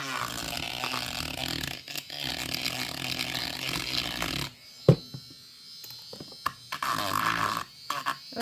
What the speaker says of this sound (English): we're going to do a little dremeling around the edge and around the tops of these, just to finish smoothing them out